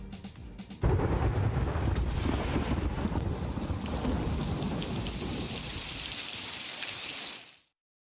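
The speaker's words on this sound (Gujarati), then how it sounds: "શરૂઆતમાં જોઈશું અષાઢમાં અનરાધાર વરસાદ" Heavy monsoon downpour in Manavadar, Junagadh district, Gujarat, roaring loud and steady with thunder and wind buffeting the microphone, a dense continuous wash that cuts off abruptly at the end.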